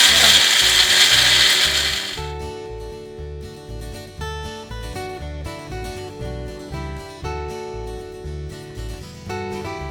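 Roasted spices crushed in a grinder give a loud whirring grind at first, then settle into a steady, rhythmic mechanical churning that carries through to the end.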